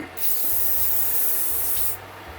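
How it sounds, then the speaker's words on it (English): Aerosol can of WD-40 blasted into the cutter block of a cheap planer thicknesser, a loud close hissing spray in a few bursts lasting about two seconds, then stopping. "so I'm just going to give it a little blast with WD-40"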